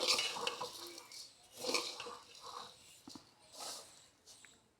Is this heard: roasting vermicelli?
yes